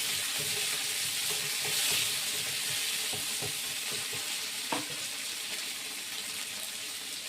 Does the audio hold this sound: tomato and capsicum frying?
yes